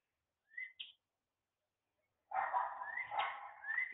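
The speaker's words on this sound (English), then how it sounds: "Here comes the dogs barking." Dogs bark at a distance, first in a short pair of high yips, then after a pause in a longer stretch of overlapping barks and howl-like yelps. The sound is fairly faint, with no talk.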